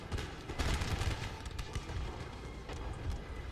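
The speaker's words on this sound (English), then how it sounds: "Continuing firing the cannons, which is going straight into them" Cannons fire in a Napoleon Total War battle: dense, overlapping booms and crackling volleys roll continuously, with heavy low rumble and sharper reports scattered through the din.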